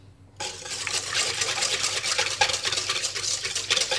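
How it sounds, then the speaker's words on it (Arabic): A spoon stirs a bread dough starter of milk, water, instant yeast and sugar in a bowl, making a continuous close swishing and scraping with small liquid clinks, starting abruptly after a brief pause. "نخلط هذا الخليط"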